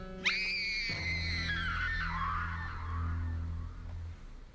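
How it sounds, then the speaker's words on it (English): A woman's long, piercing scream in a Zorro video game, rising sharply then wavering and fading over several seconds, loud and close, with a low sustained musical drone beneath it. "We heard the scream and rushed in and found Annabella unconscious on the floor"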